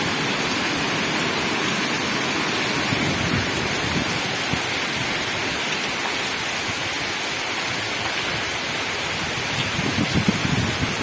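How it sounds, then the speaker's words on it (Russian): Heavy tropical rain in Phuket, Thailand pours down in a dense, unbroken hiss, loud and steady, with no voices. "Кажется, что дождь только еще усилился."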